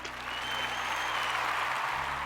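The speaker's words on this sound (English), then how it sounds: "Let's give Elias Andros a round of applause." Applause from an audience at a school ceremony: a dense, steady wash of clapping that holds at an even level for a couple of seconds, with no speech over it.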